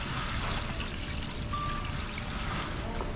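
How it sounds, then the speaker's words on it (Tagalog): Water pours steadily into pork in a cooking pot for kare-kare at a catered outdoor event, a continuous close trickling splash with no pauses. "So lagyan natin ng tubig yung ating pork"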